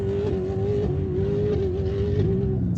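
Loud, sustained engine drone of an off-road Rush buggy racing, a steady high-revving tone held close throughout with no talking.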